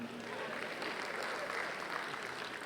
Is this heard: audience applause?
yes